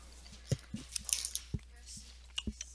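Close, wet chewing of soft pie-flavoured candy chews, with several distinct squishy bites and smacks spaced irregularly, quiet and near with no talking.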